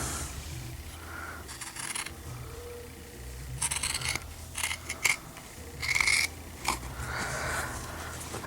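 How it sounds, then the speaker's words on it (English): Scissors snip through stretchy knit fabric being trimmed for a newborn gown, a few short crisp cutting bursts spaced irregularly, close and fairly quiet with no talking. "I'm going to trim this a little bit."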